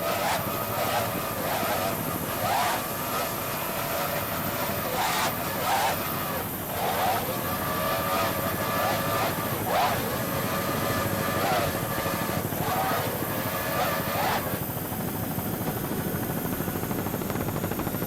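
Racing powerboat with a Cobra Racing hull and twin 2.5 Mercury outboards at the Key West world championships, a loud continuous engine roar with pulsing surges and slaps, steady throughout with a drop near the end.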